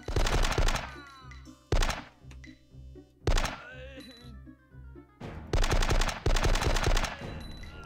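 Loud bursts of automatic gunfire from the Die Hard: Nakatomi Plaza shooter video game, several rapid volleys separated by short pauses and quieter ringing game effects, with no talk.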